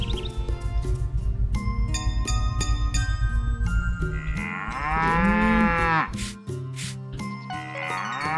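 A farm cow in Story of Seasons: Pioneers of Olive Town gives a long, loud, wavering moo over cheerful game music and chimes, then briefly moos again at the end.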